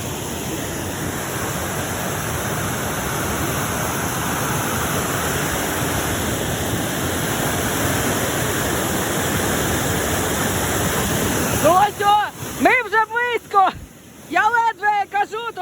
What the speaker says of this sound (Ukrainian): дуже великий шум водоспаду